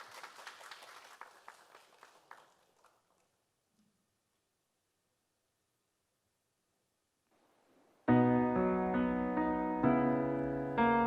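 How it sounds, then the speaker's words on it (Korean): Audience applause at a talk concert for a unification education week event, a scattered burst of clapping that thins out and fades within a few seconds, followed by silence and then loud music starting. "여러분 큰 박수로 함께 해주시기 바랍니다"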